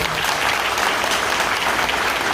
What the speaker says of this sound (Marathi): त्यामुळे एकदा त्यांच्यासाठी जोरात टाळ्या वाजवा